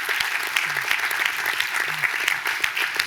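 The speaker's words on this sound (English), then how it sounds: "I think deserves another round of applause." Steady audience applause fills a room at a New York State tourism and craft beverage summit, a continuous crowd of clapping hands with a couple of brief murmurs underneath.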